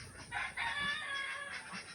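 Organic free-range chickens on a farm, with a rooster crowing loudly and nearby over soft clucking from the flock, and no one talking.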